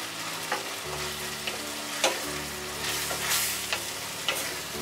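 Shrimp fry in a spiced masala with oil, spinach and onion, making a steady close sizzle while a utensil stirs them with intermittent scrapes and knocks.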